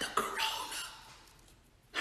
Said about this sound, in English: and then he started coughing